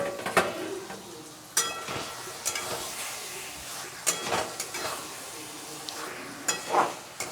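Marinated chicken, seasoned with salt, turmeric and black pepper, goes into a hot pan for a potato chicken curry. A soft sizzle runs under repeated scrapes and clinks of a utensil stirring against the pan.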